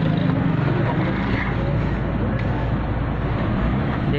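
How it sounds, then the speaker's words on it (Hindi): A Suzuki Liana car engine with an ignition coil misfire and RPM fluctuation problem, heard idling with the AC on as the accelerator is pressed, giving a steady, loud, broadband engine drone that holds even throughout. "अंदर से बैठ गए, देखिए यहाँ से भी एक्सीलेटर दे रहे हैं"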